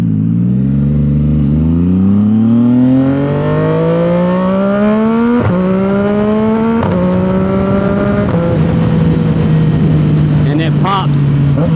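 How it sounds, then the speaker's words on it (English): A 2025 CFMOTO 675 SS sport motorcycle fitted with a full exhaust revs up through several rising gear pulls, with sharp pops at each quick-shifter upshift; loud and close throughout. "Pops every time you use the quick shifter."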